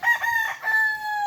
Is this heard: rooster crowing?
yes